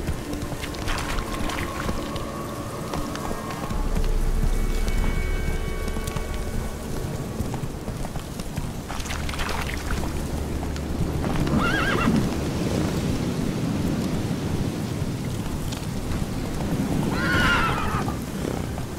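The horse Roach in the Witcher 3 video game gallops with rapid hoofbeats and lets out several loud neighs and whinnies, with game music and ambience underneath.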